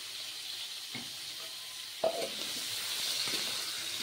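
Pointed gourd (potol) frying in oil in a kadai, a steady close sizzle with a few brief clinks and stirring knocks, no talk.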